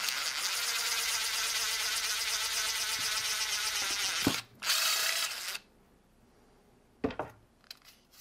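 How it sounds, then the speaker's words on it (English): A 3/16 inch bit drills a hole through the shell of an Xbox One controller, a steady high whine for about four seconds that stops, then a short second burst, followed by quiet and a couple of faint clicks. "And we'll just drill that right in the center of that little crease there."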